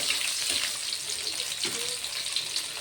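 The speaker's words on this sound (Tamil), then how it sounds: "வெங்காயம் வெள்ளைப்பூண்டு பார்த்திங்கன்னா நல்லா பொன்னிறமாக நல்லா வணங்குற அளவுக்கு நம்ம நல்லா வணக்கி எடுத்துக்கலாம்" Shallots and garlic frying in oil in a pan for a radish curry, giving a continuous close sizzle with a few faint stirring scrapes and no talk.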